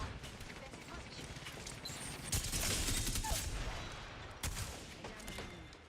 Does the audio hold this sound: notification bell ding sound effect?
no